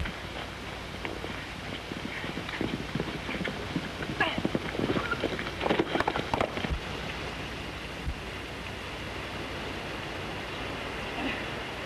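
Horse hooves clip-clop steadily throughout a western film scene, with a busy rhythmic clatter that swells slightly midway, heard alongside background voices and ambience.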